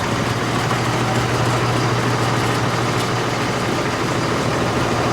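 A 2014 Claas Axion 810 tractor with 228 hp and a Quicke Q88 loader, its engine running at a close, loud, steady idle with a constant low hum.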